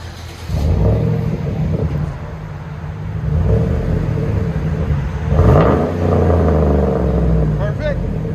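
A 2013 Chevy Silverado 1500 with a 5.3L V8 and a Vibrant bottle resonator rumbles close by, its deep exhaust note swelling as the engine is revved, with people talking over it.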